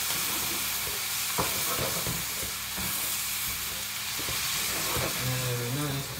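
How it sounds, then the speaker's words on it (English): Stock poured into biryani rice in a hot pan, producing a steady close sizzle and frying hiss with occasional stirring scrapes, a brief voice-like tone near the end. "add in the stock"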